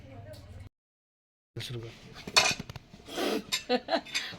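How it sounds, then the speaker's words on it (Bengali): A hard pumpkin being cut on a boti blade gives scraping, knocking cuts, with a brief silent gap and then busier, louder strokes while a person talks. "তো দেখো কুমড়োটাকে কাটছি"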